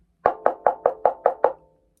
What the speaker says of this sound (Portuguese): Ele respirou fundo e tomou coragem e bateu na porta.